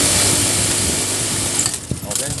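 A 780 buttonhole sewing machine runs fast with a loud, steady mechanical whir and rattle that becomes slightly uneven toward the end, with no speech.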